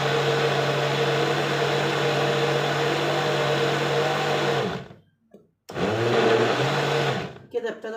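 An electric blender whirs loudly and steadily while mixing gateau cake batter, cuts out briefly near the middle, then runs again before stopping.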